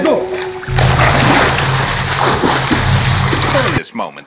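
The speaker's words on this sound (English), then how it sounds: "This is where we're swimming." Water splashes loudly and continuously from a person swimming, a dense close-up burst of churning water that stops abruptly near the end, with voices around it.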